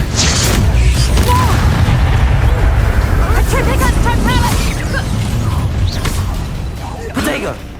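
Spell blasts from Bombarda and Confringo crack and boom in a Hogwarts Legacy fight, bursts and whooshes layered over dense game noise while a voice shouts over the action.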